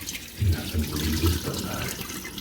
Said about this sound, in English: So we're gonna take this now, pour out the water,